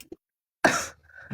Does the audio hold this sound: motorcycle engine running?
no